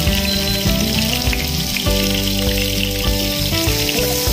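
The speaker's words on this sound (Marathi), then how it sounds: "आता पनीर आपलं फ्राय होत आहे" Paneer frying golden in a pan with a bay leaf, a steady loud sizzle and crackle running the whole time, close up and unbroken, with no talking.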